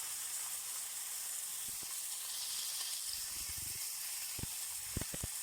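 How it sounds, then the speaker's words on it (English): Rump steak fat searing in a hot pan gives a steady broadband sizzle throughout, with a few short crackles and pops near the end. "you can hear it crisping away down, nice and crispy, that fat"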